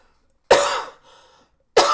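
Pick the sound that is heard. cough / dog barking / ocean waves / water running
cough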